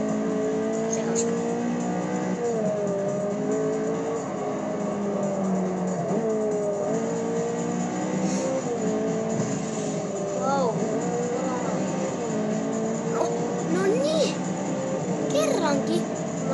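Car engine and tire noise from driving through a tunnel in the Forza Motorsport racing game, a steady loud engine drone with shifting pitch throughout, while a player talks over it.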